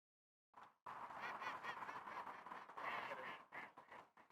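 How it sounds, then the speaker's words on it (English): Geese or ducks honk and quack in a rapid, continuous burst outdoors at a disc golf course, a loud run of calls after a brief silence, then a few scattered honks. "These ducks quacked."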